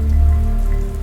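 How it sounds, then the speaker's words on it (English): Light rain sprinkling and pattering on the ground, a steady soft splashing wash with a low rumble beneath, no voices. "As the first sprinkles of rain splashed onto the ground, the people knew they were doomed."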